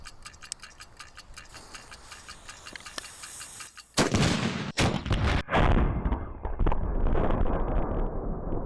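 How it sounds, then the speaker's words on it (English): Human cannonball cannon fires with a sudden loud blast after a stretch of faint ticking, followed by a burst of roaring rumble and scattered bangs that fade into lingering noise. "I'm gonna jump out of a cannon"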